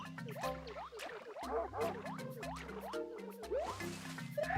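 Liquid drips and squishes in a level of the video game R.E.P.O., a run of wet plops and gurgles scattered over steady background game music.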